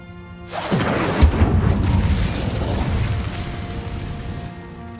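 The Incendio fire spell in Hogwarts Legacy ignites with a sudden loud whoosh after a quiet half-second, then a thick roaring rumble of flames that slowly fades, with no talking.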